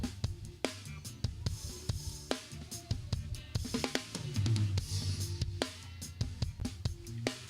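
A dense, punchy drum loop of kick and snare hits, heavily compressed, squashed and loud with little dynamic range, pounding steadily with no voices.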